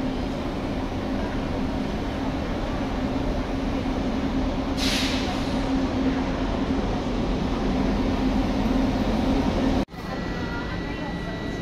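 Steady rumble of an Italo train idling at a station with a brief hiss of air brakes midway and a faint murmur of voices in the background.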